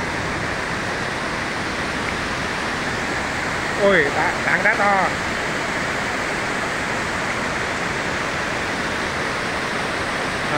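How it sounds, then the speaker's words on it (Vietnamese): A waterfall pours down from high above onto boulders, a loud continuous rushing roar filling the whole scene, with a person briefly speaking over it. "À chỉ là cái thác này đổ từ trên cao trên kia xuống"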